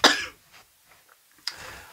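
Two close, harsh coughs separated by a short pause, with quiet between them.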